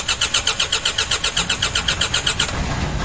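A Genpack diesel generator engine cranking over in a fast, even pulsing rhythm of starter strokes, then catching and settling into a rougher, steady running rumble near the end, close and loud.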